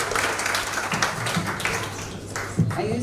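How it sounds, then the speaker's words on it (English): Applause for graduates at a reception for special needs students, a scattered crowd clapping steadily at moderate volume with a few sharper claps standing out near the end. "Let's give them another round of applause,"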